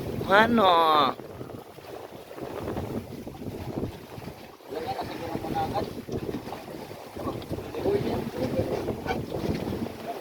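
A large fishing boat's engine drones steadily with wind and water noise on a tuna run, while voices talk over it; a brief whistling tone rises at the start.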